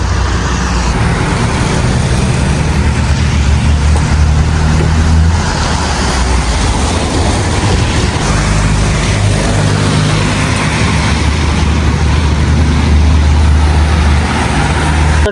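Inside a car in rainy Islamabad, a steady engine and road rumble runs throughout as the vehicle sets off, loud and continuous with no talking.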